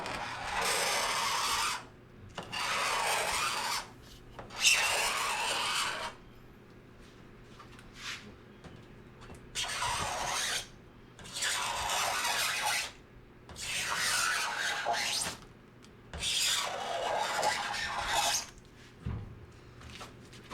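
Repeated rasping shaves along the edge of an RV-14 aircraft's acrylic canopy, close and steady, coming in about eight strokes of a couple of seconds each with short pauses between.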